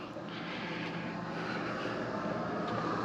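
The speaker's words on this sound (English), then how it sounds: "So we're running with three air conditioners right now, two on the roof that came with the motorhome" Roof-mounted air conditioners on a motorhome run continuously, producing a steady broad whooshing roar with a low hum, unchanging and fairly loud across the whole stretch.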